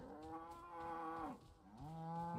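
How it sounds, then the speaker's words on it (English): A long-haired sheep in the video game Crimson Desert lets out two drawn-out, low, wavering bleats, close and clear with no talk over them. "Long-haired sheep."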